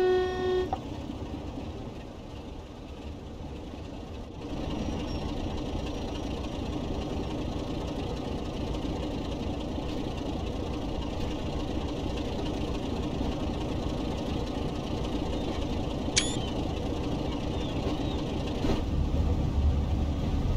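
A BR Class 33 diesel locomotive in Train Sim World 2 powers up with a steady, heavy engine drone that builds slightly and then holds, accompanied by a brief horn-like tone near the start and an occasional faint click, with no talking.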